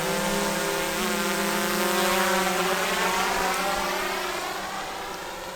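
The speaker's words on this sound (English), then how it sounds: "I've been enjoying watching Jason pilot his drone" A drone flies overhead at a campsite, its motor whine steady and sustained with a smooth droning pitch that shifts slightly, loud throughout and easing a little toward the end.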